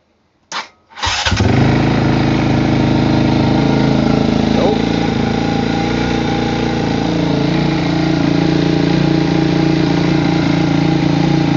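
A 2006 Honda CRF250X dirt bike with a jetted carburetor and modified air box starts after a couple of brief cranking bursts, then settles into a steady, loud, close idle.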